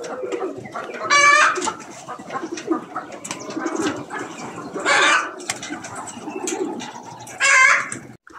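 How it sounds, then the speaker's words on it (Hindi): Pigeons coo in a room shared by pigeons and chickens at a large bird-keeping site with hundreds of birds, with dense overlapping calls and three louder bursts of clucking standing out, close and busy throughout. "ये बड़ा कबूतर है।"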